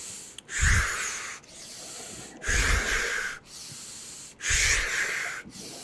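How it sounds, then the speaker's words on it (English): Loud, forceful breaths during a breathing exercise, heard close up: three strong rushing exhalations, each about a second long, with sharp intakes between them in a steady rhythm. "Crank it up for five breaths, breathing a little louder and a little stronger."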